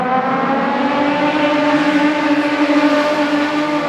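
Race cars driving onto the main straight to complete a lap, a loud sustained engine roar with steady harmonic drone, close and continuous without talk.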